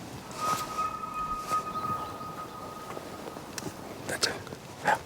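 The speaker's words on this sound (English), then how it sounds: "Do you hear the elk?" A wild elk bugles by the Snake River, a thin, sharp, high whistle drawn out for a couple of seconds, faint and distant over quiet outdoor ambience and soft voices.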